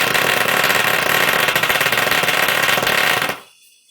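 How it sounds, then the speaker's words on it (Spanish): Small DC motor running on 5-volt USB power, a dense steady whirring buzz held near and loud for about three seconds before it cuts off abruptly into quiet. "al tener mayor voltaje, el motor va a girar mucho más rápido."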